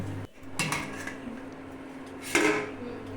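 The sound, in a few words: covering pot of mutton curry with a lid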